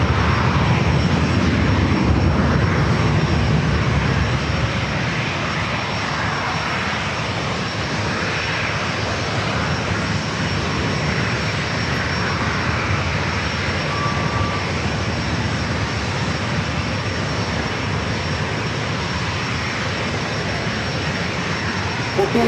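Boeing 737-900 airliner at San Diego airport, its engines giving a steady, broad roar that holds loud for the whole stretch, with faint talk underneath.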